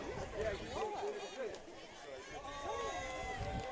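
A large, standing-room-only crowd at a Friday night high school softball championship game in Irvine, a steady murmur of chatter and babble filling the background beneath a nearby voice speaking.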